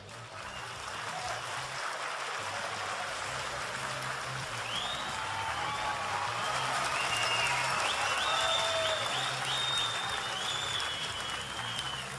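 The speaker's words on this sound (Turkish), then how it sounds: "Yoruldunuz mu alkışlamaktan?" Sustained audience applause from a crowd at a League of Legends cosplay contest final, steady clapping that swells slightly toward the end, with faint whistles or cheers on top.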